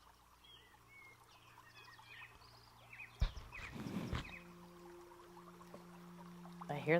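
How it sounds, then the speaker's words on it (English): Birds sing and chirp outdoors, faint and scattered through the background, while a steady low hum runs underneath and a sharp knock interrupts midway. "I hear them birds."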